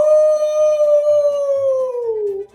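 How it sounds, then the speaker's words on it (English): A dog lets out one long, sustained howl that holds steady and then slides downward as it fades out, loud and near, with faint music playing beneath. "He howled under her window."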